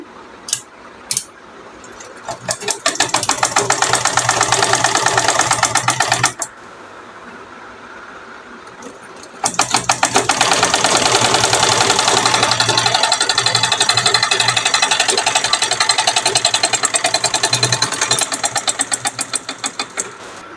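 A sewing machine stitches cloth, working around a round edge and then along a side, as a loud, dense, rapid mechanical whirring in two long runs separated by a brief pause.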